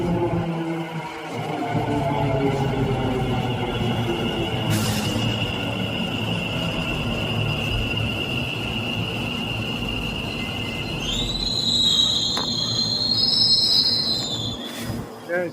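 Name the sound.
metro train arriving at station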